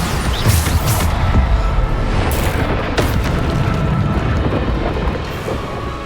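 A Bombarda spell explodes in a magic duel, loud booming blasts layered over a constant roaring rumble, with several sharp bursts punctuating the noise.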